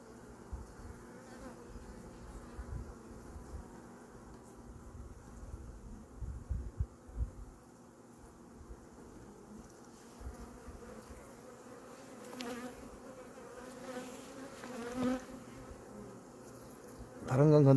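Honeybees buzzing around the outside of a beehive, a steady low hum of many insects heard close, with occasional louder passes near the end and faint handling noises.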